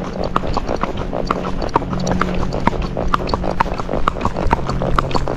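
Hooves of a Tennessee Walking Horse clip-clop in a quick, regular four-beat rhythm while ridden in gait, close and clear over a low background rumble.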